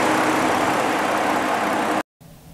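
A Ford F-150 pickup's 3.3-liter V6 engine idles with a steady, even rumble close by, then cuts abruptly to near silence before faint background noise returns.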